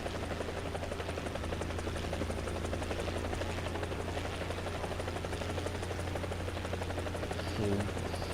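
War Thunder helicopter in flight, a steady loud rotor drone with a low throbbing hum running continuously, briefly swelling near the end.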